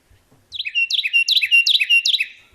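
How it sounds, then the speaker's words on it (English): A Carolina wren sings nearby, clear and loud, repeating a bright rolling phrase about five times in steady succession after a brief quiet start. "So this sound that you'll hear all summer, Carolina wren"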